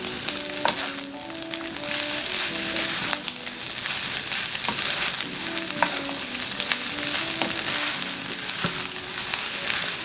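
Green peas, carrots and scallions sizzle loudly in a hot pan for Yangzhou fried rice, a constant crackling fry with rhythmic scraping and clinks of stirring throughout.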